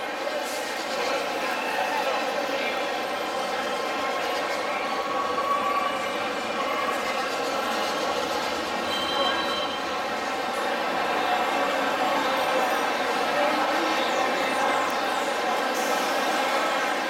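A Medellín metro train runs near a city-centre station, a continuous rumbling rail noise with a faint metallic squeal, steady throughout and heard from a short distance.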